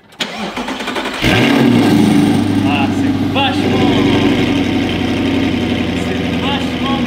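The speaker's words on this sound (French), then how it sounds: "Mesdames et messieurs, est-ce que vous êtes prêts à entendre le bruit d'un V8?" An Audi R8 with a V8 engine cranks and fires up, then settles into a loud, steady idle that rumbles throughout. Someone speaks briefly over the engine noise.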